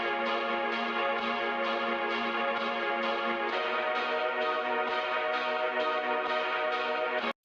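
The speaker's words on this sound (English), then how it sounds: "The first thing we're going to look at is the main synth that's in the intro." A bright, bell-like synth from the intro of a song plays a steady repeating chord progression with rhythmic pulses, shifting chords midway, solo and continuous until an abrupt stop.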